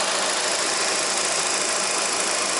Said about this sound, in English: Believe it or not, the engine is running.